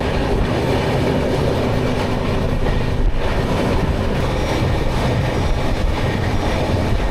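The Shalimar–Puri express passenger train rumbles past on the rails near Kharagpur, a loud continuous roar with rhythmic clatter of wheels, close by and steady the whole time.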